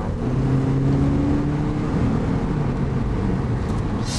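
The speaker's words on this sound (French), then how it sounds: "Alors là en fait c'est le 115 chevaux qui se met en marche" A Toyota Prius 115 hp petrol engine starting up under acceleration, a steady low hum with a faint rising tone, heard from inside the car.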